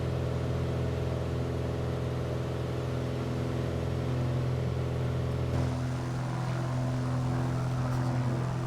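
A JustFlight Piper Arrow propeller plane in a flight simulator drones steadily with a loud engine hum during its takeoff run, its tone shifting slightly partway through.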